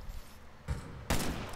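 An MSR sniper rifle fires in the multiplayer beta of Ghost Recon: Future Soldier, giving two sharp reports in quick succession. Both are faint and distant-sounding over low game ambience.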